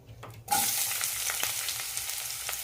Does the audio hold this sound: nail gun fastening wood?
no